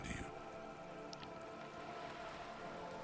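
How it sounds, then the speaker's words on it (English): Rain falling on wooden boards and water in the video game Disco Elysium, a faint, steady hiss with a couple of soft drips near the start, continuous and fairly quiet throughout. "All around you, rain keeps falling down."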